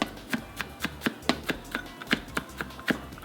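A knife slices garlic on a cutting board in a steady run of about a dozen sharp, close taps, roughly three or four per second. Nobody speaks over the chopping.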